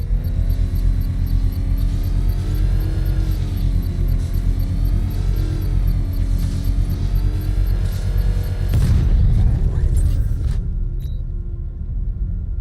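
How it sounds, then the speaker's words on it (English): Controlled bomb explosion set off with a power winch in a Batman video game, a sudden loud boom with heavy low rumble breaking in near the end over a steady droning game soundtrack, then cutting out. "I can use the power winch to trigger a controlled explosion."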